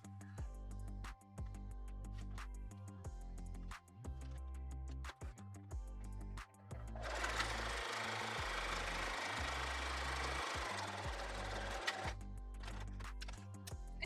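A sewing machine stitching decorative stitches on pull tab fabric for a zipper pouch, a steady rhythmic mechanical chugging close by, with a brief louder whirring stretch in the middle.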